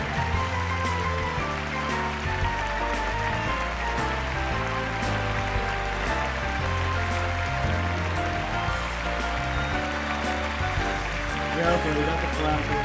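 Sustained applause from an awards ceremony audience greets Fred Rogers receiving a Lifetime Achievement Award, a dense, even hiss of countless hands clapping without pause, with voices faintly present beneath it.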